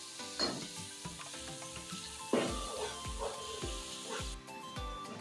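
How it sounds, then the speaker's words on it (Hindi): Onion, ginger and garlic frying in oil in a pan, a steady close sizzle broken by a series of spoon scrapes and clanks against the metal. "इसमें अदरक लहसुन डालेंगे, उसको हल्का सा फ्राई करेंगे ताकि उसकी कच्ची स्मेल खत्म हो जाए"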